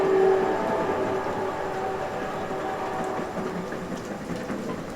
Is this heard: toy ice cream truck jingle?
no